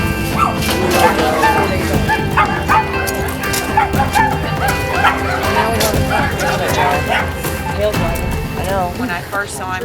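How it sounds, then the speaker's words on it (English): Many dogs kept in crates at a rescue site bark, yip and whimper over one another in a loud, dense chorus, with people talking underneath. "Big dogs in crates."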